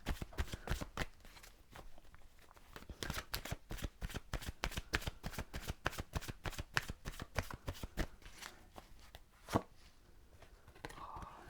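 Oracle cards are shuffled by hand in a long, rapid run of crisp riffling flicks. The flicks come close and steady with brief pauses, and no voice is heard.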